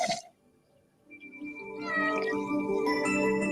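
A cat in a Diet Pepsi commercial lets out a long, wavering meow that swells into a loud, sustained yowl, preceded by a short sharp sound and a quiet pause.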